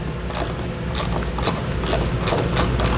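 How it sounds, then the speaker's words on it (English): A T15 Torx bit on a ratcheting driver loosens trim panel screws inside a 2021 GMC Canyon, making a close, loud run of rapid, even ratchet clicks throughout. "We're using a T15 Torx to remove those."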